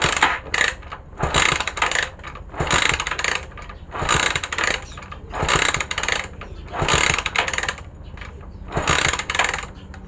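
A motorcycle with a freshly cleaned carburetor is cranked over and over with the key on but never catches: about nine rhythmic mechanical cranking bursts, close and fairly loud, with no voices.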